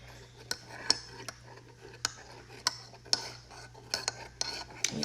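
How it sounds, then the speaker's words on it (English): A spoon stirring tea in a cup, giving a series of sharp, irregular clinks against the cup wall, close and moderately loud over a low steady hum, with no talking. "Let me stir this tea up."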